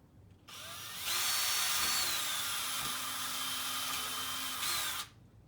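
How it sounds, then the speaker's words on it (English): A power drill whirs up and runs steadily for about four seconds at close range, drilling a hole in a tree limb, then spins down and stops. "Drill my hole."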